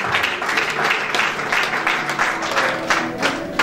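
A church congregation at a worship service in Lyon bursts into sustained applause, dense clapping and cheering held steady throughout with a few voices mixed in.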